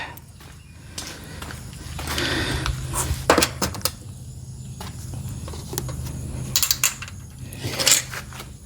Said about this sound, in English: I've got my deadbolt, so we slide the bolt part in first.